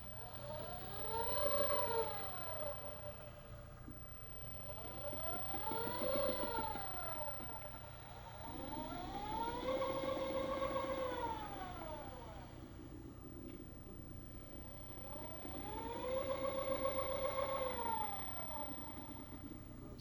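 A MyT Paramount telescope mount slews on its motors, a faint whirring purr that rises and falls in pitch four times, each sweep lasting a few seconds over a quiet background hum.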